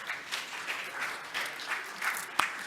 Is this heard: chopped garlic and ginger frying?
no